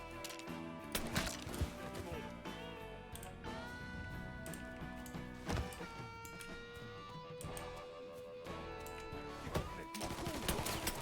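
Rapid bursts of gunfire ring out in a Mafia 3 shootout, dense overlapping shots and volleys running loud and continuous over a backdrop of game music.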